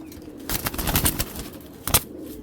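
Giribaz pigeons, among them a silver-marked female, coo close by in short soft pulsed bursts, with a busier stretch early on and a single louder call near the end.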